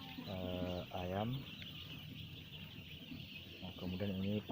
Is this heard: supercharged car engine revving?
no